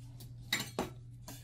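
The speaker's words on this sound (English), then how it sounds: "Then you take a fork and you go around the edges" A fork works around the floured edges of sugar cookie dough for mini pies, making a few light metallic clinks and taps spaced apart.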